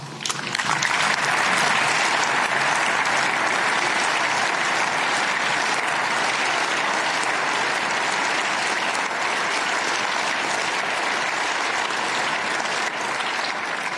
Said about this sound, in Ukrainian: І ці оплески, точно не мені, ці оплески за вдячність.